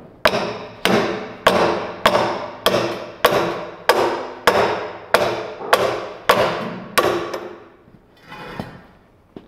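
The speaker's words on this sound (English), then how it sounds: "Mortal sin for tools is to hit them with hammers" A hammer striking a tool on a walk-behind roller pulled from a dumpster, about a dozen sharp, loud metallic blows in an even rhythm, each ringing briefly before the next, then a final softer knock.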